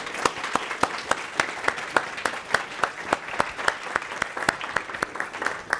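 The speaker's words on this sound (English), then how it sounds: "let's have one more round of applause for all of our winners" An audience at a computer science recognition ceremony claps for award winners, a dense, even round of applause with a lively rhythm, moderately loud and steady throughout.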